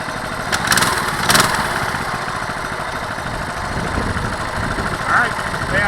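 A 2022 Coleman CT200U-EX mini bike engine runs steadily at a fairly close distance, with a couple of brief revving bursts rising over the continuous buzzing drone.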